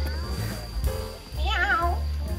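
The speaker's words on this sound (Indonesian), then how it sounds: "Ada kucing, guys. Ada kucing." A cat meows inside a cave, a clear rising-and-falling call midway, close by, with voices and cave ambience around it.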